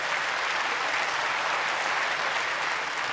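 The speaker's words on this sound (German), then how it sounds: "Ein herzlichen Applaus für den Herrn da vorne." A comedy festival audience applauds a man at the front, a steady, even roar of clapping from a large crowd that stays constant throughout, fairly distant and without voices on top.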